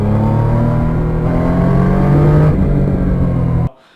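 A motorcycle engine with an open exhaust runs close by with a steady, buzzing drone and slight rises in pitch, then cuts off abruptly just before the end. No one speaks.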